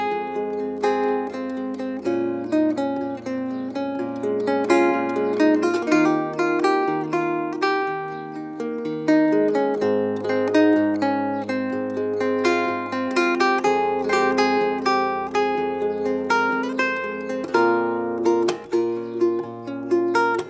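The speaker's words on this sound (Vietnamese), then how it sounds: "Đây là âm thanh mộc của cây đàn Golden này" A Godin solid-body electric guitar is played unplugged, giving a thin acoustic tone. A continuous run of picked notes and chords plays close and moderately loud for twenty seconds, with no talking.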